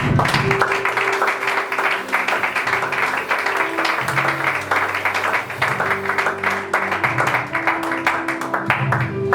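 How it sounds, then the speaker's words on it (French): A church congregation applauds in worship, dense sustained clapping carried over music and sung voices throughout. "acclamons pour la gloire de Dieu"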